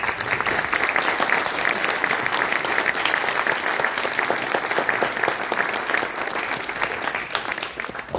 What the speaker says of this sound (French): qu'on va applaudir.